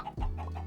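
Minecraft chickens in a Bedrock Edition build, a single short cluck standing alone, brief and fairly quiet.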